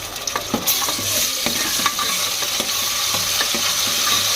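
Ground masala paste frying in hot oil, a loud continuous sizzle broken by repeated scraping strokes of a spatula stirring it in the pan.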